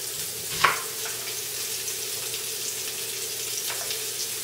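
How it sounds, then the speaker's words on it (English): Onion hitting a couple tablespoons of hot canola oil in a pan, a soft steady sizzle with one sharp clatter early on, then a constant low hiss. "I'm going to add that to my hot pan"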